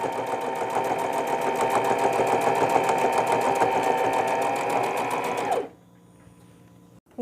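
Sewing machine stitching a pillow cover, a steady fast close whir for several seconds that stops abruptly, leaving near silence with a soft click at the end.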